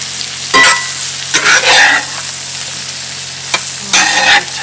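Meat for a keto meatloaf sizzles in a pan, with several short bursts of louder frying and stirring noise rising over a quiet background, no speech.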